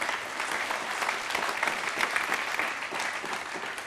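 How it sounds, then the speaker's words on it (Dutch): A congress audience applauds a speaker being welcomed to the stage, a dense, continuous wash of many hands clapping at moderate distance, steady throughout with no voices over it. "Geef hem een daverend applaus."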